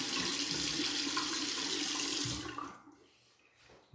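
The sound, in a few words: water running from tap while rinsing shaved head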